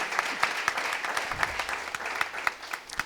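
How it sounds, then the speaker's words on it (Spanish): Audience applause at a Spanish field hockey federation centenary tour event in Valencia, a steady round of dense clapping with sharp individual claps standing out, continuous through the stretch. "Fuerte aplauso también, por favor."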